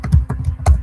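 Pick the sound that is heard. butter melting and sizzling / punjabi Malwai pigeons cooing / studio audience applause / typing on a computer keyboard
typing on a computer keyboard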